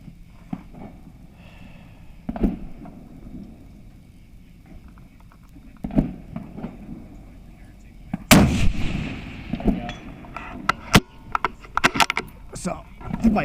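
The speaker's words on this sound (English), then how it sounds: "We'll try to shoot that small one again." Gunshots fired at targets on an outdoor shooting range in Ohio, several sharp distant cracks spread apart, with one loud nearby shot, under ongoing conversation between shooters.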